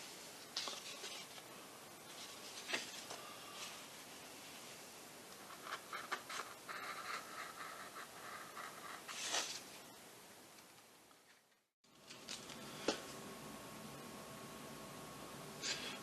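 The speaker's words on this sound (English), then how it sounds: "cutting out these pieces for the rudder" Balsa pieces for the rudder of a Great Planes J-3 Piper Cub RC model are cut out and pushed from the sheet: close, soft scraping and crackling with small clicks and a short pause.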